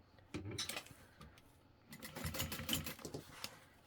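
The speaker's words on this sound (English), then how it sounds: "you're going to top stitch that on the bottom piece" A sewing machine top stitches through layers of a handbag, its faint, close, rapid mechanical clatter running in two short bursts with a brief lull between.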